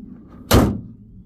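A single car door is shut on a BMW, one sharp slam-like thunk heard up close, alone in a quiet setting with no talk.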